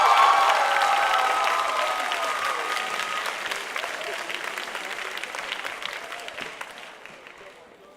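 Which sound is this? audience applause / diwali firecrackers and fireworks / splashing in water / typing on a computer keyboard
audience applause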